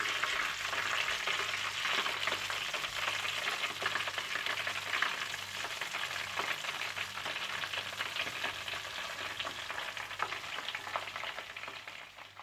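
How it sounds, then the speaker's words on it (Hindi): Chicken drumstick lollipops fry in hot oil with a continuous, close, crackling sizzle that holds steady throughout, with no voices. "और इसी तरह से आप बाकी चिकन को भी फ्राई कर लीजिएगा।"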